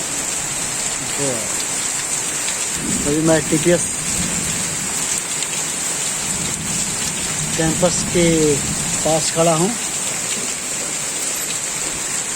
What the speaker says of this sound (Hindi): आप देख रहे हैं कितना झमाझम बारिश हो रहा है